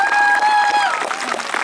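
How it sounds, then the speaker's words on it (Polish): Spectators at the Bieg Kwitnącej Jabłoni running event in Łącko clap for Kamil, a brief burst of applause swelling after a voice, close and fairly loud. "Wielkie brawa dla Kamila, naprawdę."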